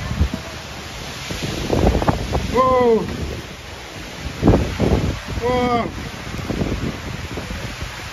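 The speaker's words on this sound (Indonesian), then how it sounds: "ini hujan dan anginnya cukup" Heavy rain and strong wind lash an outdoor uphill route toward a checkpoint, making a loud, continuous roar of gusts and downpour throughout, with a man's brief excited exclamations over it.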